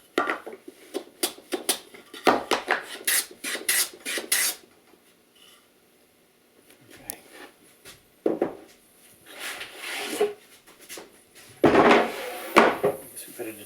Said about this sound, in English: I'm going to take the edges off my chisels.